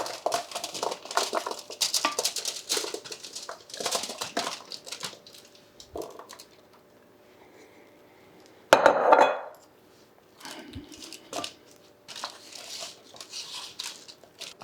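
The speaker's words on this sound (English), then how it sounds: "Once your veggies are coated and seasoned, we just dump them on the sheet pan. around our salmon." Coated, seasoned vegetables are tipped onto a metal sheet pan around salmon in a kitchen, a brief clattering rush standing out amid scattered clinks and handling sounds of pans and utensils.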